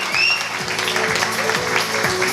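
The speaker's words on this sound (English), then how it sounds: "Give them a massive round of applause." Audience applause for performers Keshwan and Taesha at a talent quest semi-final, a short steady patter of clapping with a faint tone and low rhythmic thumps beneath.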